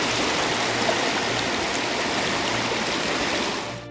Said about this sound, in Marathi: पाण्याचा आवाज जास्त म्हणून माझा आवाज येत नसतो तुमका.